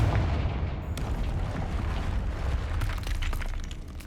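The Confringo blasting spell in Hogwarts Legacy goes off, a loud booming explosion with a deep rumbling body and crackling debris that slowly fades.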